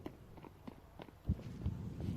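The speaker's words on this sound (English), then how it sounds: "And now DJ, here's the footstep." Footsteps in a four-versus-four competitive shooter match: quiet, evenly spaced steps padding along at a walking pace over a low background hum, with a couple of slightly heavier thuds toward the end.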